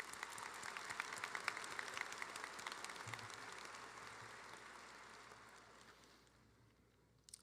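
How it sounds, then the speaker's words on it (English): Audience applause for staff at a university commencement ceremony, a broad, steady wash of many hands clapping in a large hall that slowly thins and fades over several seconds. "Let's give them a round of applause."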